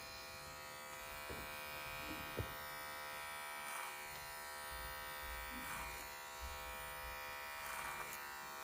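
Electric hair clippers buzz steadily as they cut a child's hair over a comb at a short graduated angle, a continuous close hum with slight shifts in tone as the blades pass through the hair.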